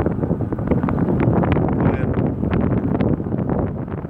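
Strong wind roars steadily across the microphone while kite flying outdoors, a dense continuous buffeting with gusty surges throughout and no clear talk.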